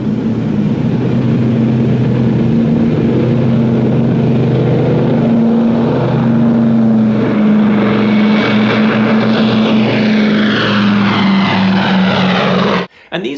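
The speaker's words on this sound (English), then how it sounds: "And PBY Canso rescue aircraft as well." PBY Canso rescue aircraft propeller engines drone steadily at close range, a loud sustained piston-engine hum with a low tonal throb throughout, cutting off abruptly near the end.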